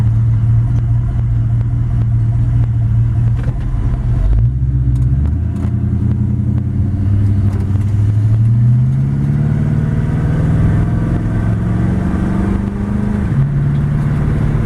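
A 1940 Ford all-steel pickup resto rod with a Ford engine and AOD automatic transmission drives along, its engine rumbling loud and close, with the pitch climbing and dropping through gear changes and no talking.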